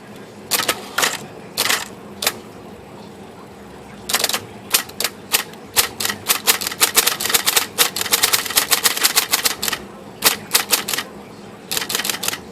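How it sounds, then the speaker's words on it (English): A serviced vintage 1970 Hermes 10 type bar typewriter clatters with sharp, close keystrokes, first in scattered clusters, then in a fast, dense run of typing with brief pauses between bursts. "That's pretty good for a type bar machine."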